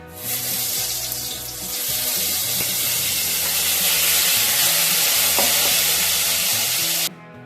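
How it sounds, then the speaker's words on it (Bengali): Blended vegetable paste for a paneer malai kofta gravy is pushed through a strainer, a loud wet, rushing swish that builds and holds close up, then cuts off abruptly near the end. "স্ট্রেনারে করে ছেঁকে দেবো"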